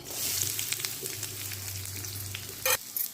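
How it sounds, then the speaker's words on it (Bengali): Onions sizzle steadily in mustard oil in a kadai with kalonji and dried red chilli, a continuous close frying hiss with a brief louder crackle of stirring near the end; no one speaks. "ভাজা হয়ে গেলে তারপরে দিচ্ছি পেঁয়াজ"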